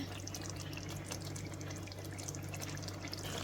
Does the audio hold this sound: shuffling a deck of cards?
no